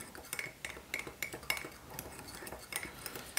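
A spoon or whisk scrapes and clinks steadily against a cup while granulated sugar is stirred into hot chocolate mix, a quick irregular rhythm of close, faint metallic taps.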